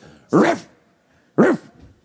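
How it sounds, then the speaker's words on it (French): A dog barking sound effect used in a tabletop role-playing game gives two sharp, separate barks about a second apart, fairly close and clear against quiet. "C'est le bruit d'un chien."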